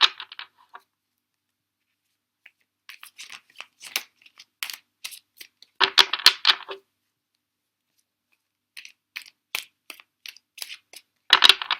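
Tarot cards are shuffled by hand in short bursts of crisp riffling and slapping, separated by silent pauses, close and clear with no talking.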